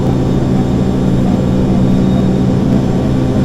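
Airplane engine during a rough takeoff, a loud continuous low roar with a steady droning hum, heard alone without voices throughout.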